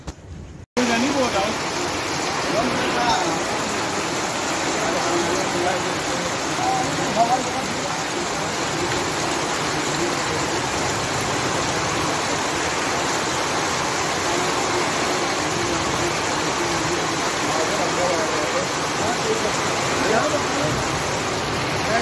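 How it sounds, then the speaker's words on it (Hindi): Heavy monsoon rain pours in a dense, steady roar in a village that holds for the whole stretch, with faint voices buried underneath. "पूरी बारिश आई है आज भयंकर वाली बारिश"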